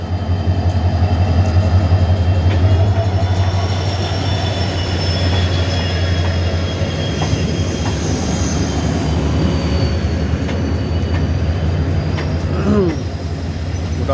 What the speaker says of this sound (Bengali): তো দেখুন ট্রেন এসে গেছে।